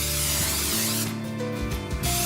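A can of cooking spray hisses into a 9-inch cake pan for a fruit tart, a close, loud burst of spray noise mixed with rattling and tonal hum.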